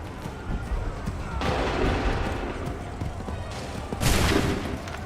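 Volleys of musket gunfire from a line of soldiers in Assassin's Creed 3, two loud crackling bursts about two and a half seconds apart, over a steady battlefield din with commanding voices nearby.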